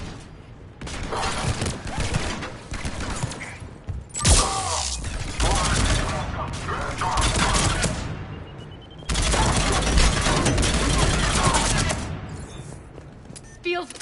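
Sustained bursts of automatic gunfire fill a firefight in Mass Effect 3, loud and dense with booms and clattering mechanisms, while game voices and effects run underneath.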